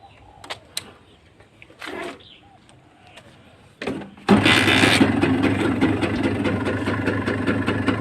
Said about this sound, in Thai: เดี๋ยวลองฟังเสียงเครื่องกันดูก่อนนะครับ